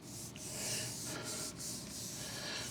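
A hand block sander works Bondo body filler along a door jamb, giving a steady, continuous gritty rubbing that runs close and fairly quiet throughout, with a few brief pauses in the strokes.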